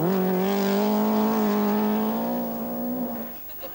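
A rally car at the 1982 Scottish Rally storms past on a long straight, its engine note loud and sustained at high revs, then fading quickly as it passes and recedes.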